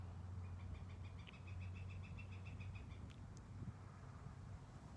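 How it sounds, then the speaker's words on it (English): Birds twitter outdoors in a quick series of faint, high chirps for about three seconds, set over a steady low hum and a constant wash of background noise. "as soon as I am talking too much, they start twittering quite loud"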